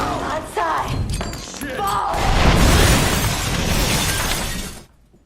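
A sudden explosion bursts with a loud shattering, breaking crash and heavy thuds, a dense roar that swells for several seconds before cutting off abruptly.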